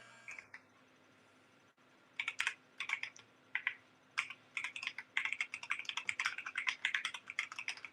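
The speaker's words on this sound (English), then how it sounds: "Dang, Dylan is clicking." Computer keyboard typing in a room with an espresso setup, a quiet lull followed by a steady run of rapid, close key clicks that builds to continuous typing.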